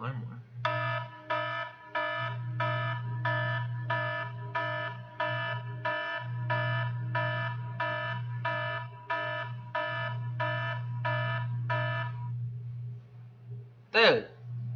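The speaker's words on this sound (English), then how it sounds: "What's this alarm for?" A repeating electronic alarm tone blares in steady evenly spaced pulses for about twelve seconds over a low continuous hum, then stops, followed by a brief sharp sweep near the end.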